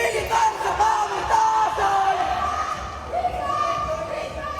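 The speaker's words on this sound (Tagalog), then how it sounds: "Sa isang bahagi ng video, sumisigaw na ang mga estudyante." Students at a Manila university shout and yell together during a Philippine Air Force pre-anniversary exhibit, a loud crowd of raised, wavering voices heard from a short distance.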